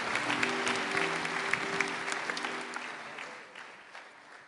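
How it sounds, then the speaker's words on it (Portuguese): Church congregation applauding during a family congress service: sustained, moderately loud clapping from a crowd over a faint low tone, gradually tapering off toward the end. "Te aplaudimos mais uma vez como igreja."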